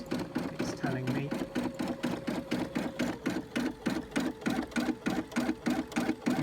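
Brother M280D Disney sewing and embroidery machine stitching a design, a fast steady rhythmic whirring and needle clatter, close and continuous.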